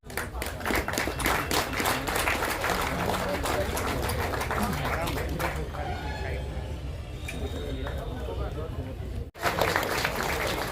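Audience applause at an agricultural machinery fair in Bhagalpur, dense rapid clapping for several seconds that fades into quieter crowd murmur, then picks up again briefly at the end.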